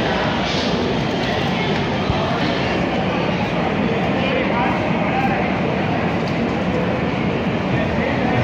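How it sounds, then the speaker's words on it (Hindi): Trains at the Anand Vihar railway station platform in Delhi: a steady, loud rumble of rolling stock and station noise fills the whole span, with someone talking over it. "तो चलिए चलते हैं प्लेटफॉर्म नंबर 2 और 3 पर, क्योंकि 2 ट्रेनें हमारा इंतज़ार कर रही है वहाँ पर।"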